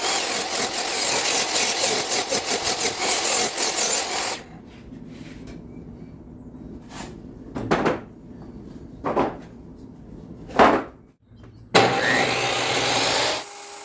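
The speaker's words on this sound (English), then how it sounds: "So now I'm cutting the other side of the boards, getting them all squared up" Power saw squaring up wooden boards for a handmade table: a loud, steady cutting roar for about four seconds, then quieter knocks and brief bursts of handling, before a second sustained cutting pass near the end.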